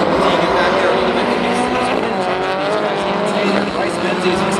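Rallycross race cars roaring past at the SEMA Las Vegas Global RallyCross Championship, steady loud engine drone with squealing tires, under continuous commentary.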